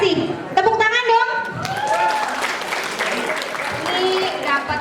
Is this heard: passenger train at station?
no